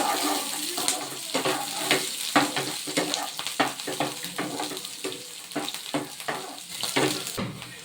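Onions and chillies fry in a hot pan, a steady sizzle broken by repeated stirring scrapes and clatters, close and fairly loud with no talking.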